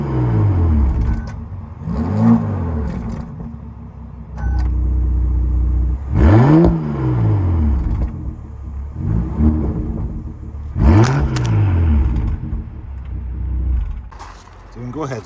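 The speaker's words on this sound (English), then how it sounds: "Here's a little exhaust note from the back." A 2016 high-mileage Bentley Bentayga W12 exhaust heard from behind the car as the engine is blipped in several sharp revs that rise and fall, separated by steady idle rumble.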